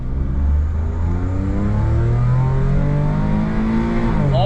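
A Daihatsu HiJet Deck Van kei truck with an automatic gearbox revs hard from a standstill. Its small engine note climbs steadily in pitch, loud and close from inside the cab, with no talking.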